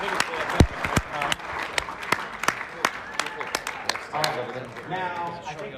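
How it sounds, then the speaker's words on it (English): An audience at a sales training presentation applauds, with dense clapping and sharp individual claps standing out, and voices mixed in throughout. "Can we give them all a big round of applause?"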